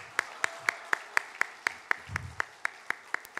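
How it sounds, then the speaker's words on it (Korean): A church congregation claps in an even, regular beat, each clap sharp and distinct against a quiet room, with a brief low murmur partway through. "어제 금상팀을 여러분의 큰 박수로 모시도록 합니다."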